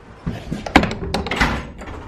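A door in a baby goat enclosure bangs shut with a couple of knocks and a rattle of the latch, close and fairly loud.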